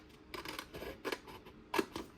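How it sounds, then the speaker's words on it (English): Long-bladed scissors cut into a manila file folder with a few crisp, close snips spaced apart in a quiet room. "I'm going to cut just to the right of it with my long bladed scissors"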